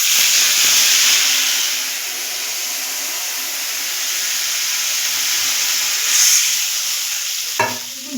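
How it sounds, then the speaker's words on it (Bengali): Water poured onto a spiced soya chilli mixture in a hot pan sets off a loud, steady sizzling hiss that holds close and unbroken, with a short clatter of a utensil near the end. "এবার আমি এর মধ্যে অল্প পরিমাণে জল দিয়ে দেব।"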